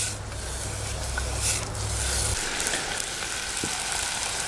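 Onions sauté in a pan before ketchup goes in for a rib glaze, giving a soft, faint, steady sizzle close by, with a low rumble fading out partway through.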